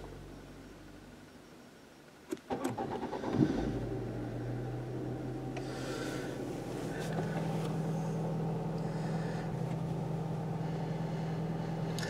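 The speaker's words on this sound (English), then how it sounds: "if you want to start it, what you do is you put your foot on the clutch, as shown, and then press the button." A 2010 Ford Focus Titanium Mk2 hatchback starts by push button: a click and brief cranking, then the cold engine catches and settles into a steady, close idle hum that continues to the end.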